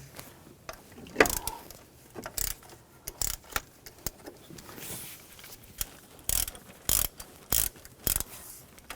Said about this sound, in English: Using a 10mm socket, take this bolt out and this one over here.